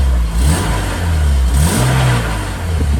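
A BMW E36 engine revs steadily with its manual gearbox in gear and the wheels spinning, a loud, continuous close-up drone that rises and falls in pitch over a few seconds.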